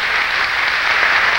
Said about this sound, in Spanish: Un fuerte aplauso nuevamente.